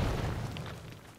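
A grenade explodes in Halo: Combat Evolved, a single deep booming blast that rolls off and fades within about a second.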